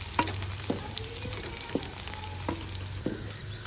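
Onions browning in a pan give off a low steady sizzle, broken by sharp clacks of a spoon scraping and stirring at a regular pace.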